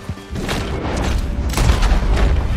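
A gunshot rings out in Red Dead Redemption 2, a loud, booming blast that begins about a third of a second in and rumbles on through the rest of the short stretch, with no voices over it.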